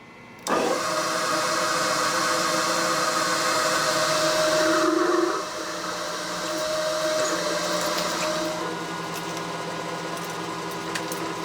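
A machine cutting bronze bushings with lubricant, a loud steady whirring motor drone with a high tonal whine that switches on suddenly, then drops to a lower running hum partway through, close, with no voices.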